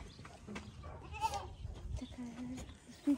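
Goat bleating while being hand-fed by visitors, short nasal bleats rising over a busy outdoor background with people talking nearby and a sharp bleat at the very end.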